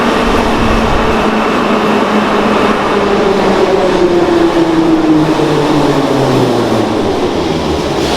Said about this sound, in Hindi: इस मेट्रो से ट्रैवल कर रहे हैं